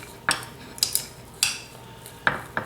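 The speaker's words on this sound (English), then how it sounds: "And then we just kind of mix this together" A utensil clinks and scrapes against a bowl while tarragon butter is mixed with salt and pepper. The light knocks come in irregular bursts, close by and with no voices.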